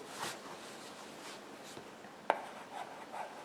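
Plastic stylus with a squarish, rectangular tip scratching across a digital slate, soft faint strokes in short bursts with a couple of sharp taps, close and quiet.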